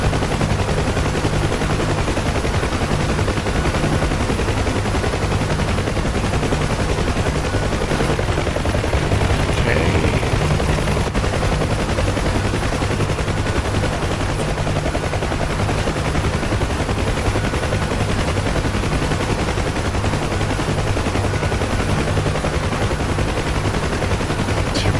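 A door gunner on a UH-1 Huey helicopter in DCS fires a machine gun over a steady, loud rotor and engine drone, with bursts blending into the continuous helicopter noise.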